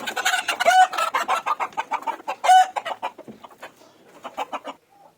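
Native desi hens and a rooster squawk and cluck in agitated, overlapping bursts while being caught on a farm, with two sharp louder cries standing out, close and clear with no talk.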